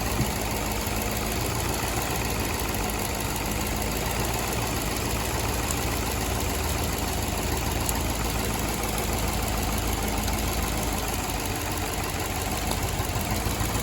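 An Infiniti or Nissan car engine with a cylinder 1 misfire idles close by with a continuous rumbling drone and an uneven, slightly shaky pulse of a rough running motor.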